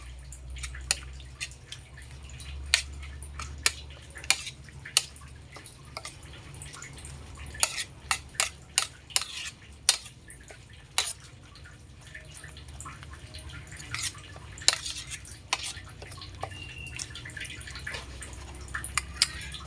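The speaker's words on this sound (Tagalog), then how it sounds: "Halo-halo mo lang." Egg mixture with malunggay leaves being stirred for fried eggs, a steady run of light wet clicks and taps from a utensil against a bowl, close and fairly quiet over a low background hum, with no talk.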